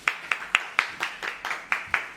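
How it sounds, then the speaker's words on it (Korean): An audience in a theatre at a play's special curtain call claps in a slow, even beat, about nine separate sharp claps spaced roughly a quarter second apart, fairly close and clear. "박수"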